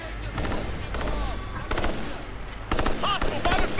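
Bursts of automatic gunfire from the video game Ghost Recon Future Soldier come in several loud, sharp volleys separated by brief pauses, set against a rumbling battlefield background.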